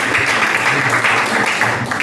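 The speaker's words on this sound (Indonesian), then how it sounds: "Tepuk tangan dulu." An audience at the closing ceremony of a digital marketing training run by the Alor tourism office gives a loud, continuous round of applause, a dense wash of clapping filling the whole moment.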